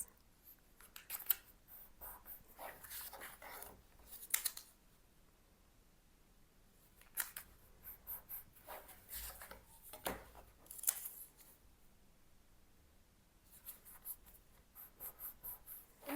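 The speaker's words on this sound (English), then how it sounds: "I'm just folding it on each of these fold lines." Paper being folded along printed fold lines for foundation paper piecing of a square-in-a-square quilt block, giving soft, close, crisp rustles and creases in irregular bursts with quiet gaps between.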